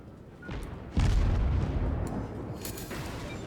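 Warship guns boom in World of Warships, one loud heavy blast followed by a long rumbling tail and a fainter second report, with no talk over it.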